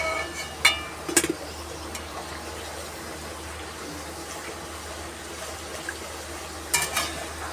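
Luchi fry in hot oil, turned with a new metal spatula: a faint, steady sizzle runs throughout, broken by a few sharp scrapes and clinks of the spatula against the pan.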